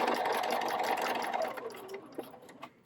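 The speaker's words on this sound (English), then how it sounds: "Stop sewing at the second solid line, like so" A sewing machine stitches a quilt block seam, running as a steady close mechanical whir that slows and stops, ending in a few faint clicks.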